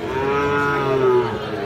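A Sahiwal bull calf gives a single drawn-out moo, close and clear, lasting under two seconds.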